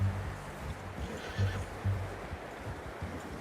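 A horse in the video game Red Dead Redemption 2 whinnies quietly, with brief snorts and low vocal bursts over soft background noise.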